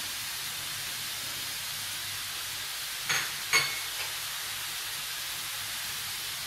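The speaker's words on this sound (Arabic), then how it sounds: "هنا جاتني المقله صغيره، نقلب كلشي هنايا" Filling of herbs, olives and harissa stirred and frying in a small pan, a steady broadband sizzle throughout with two brief louder scrapes of the spoon near the middle, no voices.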